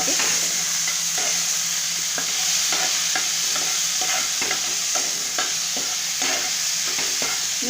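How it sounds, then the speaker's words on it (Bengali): Chopped tomatoes sizzle steadily in a hot pan for a paneer dish while a spoon stirs them, scraping and clinking at a regular pace, close with no talk. "এবার আমি নাড়াবো এটাকে।"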